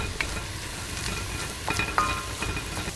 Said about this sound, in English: it's just my brown rice cooking